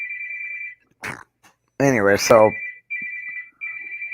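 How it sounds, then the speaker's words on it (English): A phone ringtone rings in steady repeated bursts, breaking off briefly while someone talks over it, then resuming clearly. "I'm not answering the phone"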